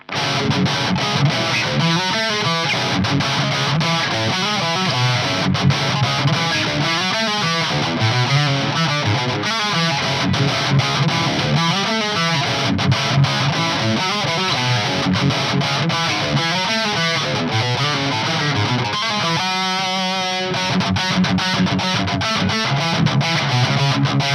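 Heavily distorted electric guitar playing dense riffs through a Mesa Boogie Dual Rectifier high-gain tube amp on the red channel with a boost engaged, loud and continuous with thick saturated chords and palm-muted chugs.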